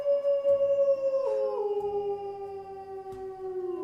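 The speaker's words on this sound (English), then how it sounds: "Wow, that's a lot of howling." Several drawn-out howls overlap in a werewolf game stream, long wavering wails that slide downward in pitch and layer into a loud, sustained chorus with no talking.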